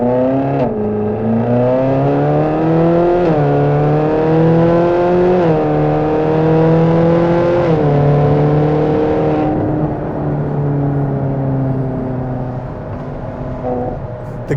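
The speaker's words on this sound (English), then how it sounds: "the sound, both from your engine and from the exhaust, is thrilling" Ferrari California 4.3 V8 in sport mode, engine and exhaust accelerating hard from the cabin, pitch climbing through several gears with quick dips at each upshift, loud and continuous.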